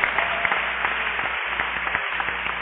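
A congregation in a church claps at moderate volume, a steady patter of hands with brief gaps, heard through a narrow, muffled recording.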